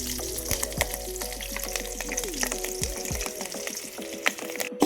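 Green chillies fry in hot oil for a fish curry, making a steady, close sizzle with small crackles, and faint tones carry on underneath.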